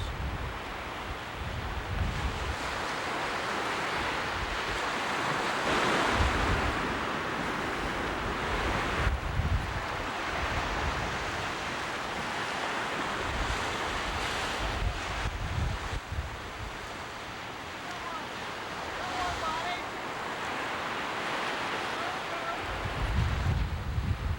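Surf breaks steadily along an ocean beach during surf fishing for bluefish, a continuous rushing wash of waves mixed with wind buffeting the microphone, with a voice talking over it.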